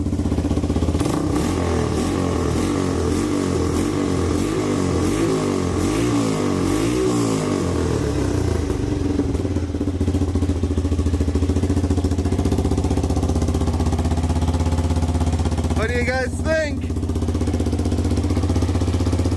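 An old 1985 Yamaha YTM225DR three-wheeler engine, run after years of sitting, runs loud and steady, chugging and uneven, with a rapid ticking puff from an exhaust leak; someone says a few words near the end.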